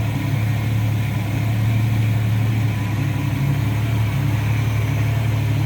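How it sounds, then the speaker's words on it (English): A 1965 Ford Mustang Coupe sits idling, its engine giving a steady, smooth low rumble with even loudness and no revving. "Hear how quiet it is and how smooth that's running."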